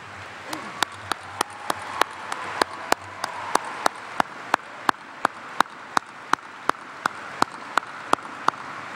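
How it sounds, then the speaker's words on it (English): Crowd applause for faculty and staff at the 2011 Augusta State University graduation, a steady, fairly distant wash of clapping lasting several seconds, punctuated by sharp, evenly spaced clicks, with no speech. "candidates for graduation, can thank them with your applause"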